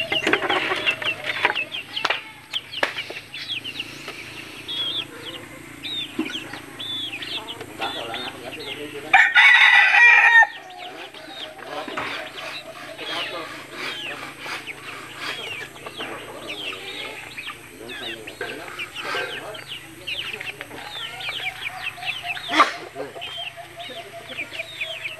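Red junglefowl roosters crow loudly several times, with one prominent close crow midway and others farther off, among steady clucking and farmyard bird calls. A person speaks intermittently in the background.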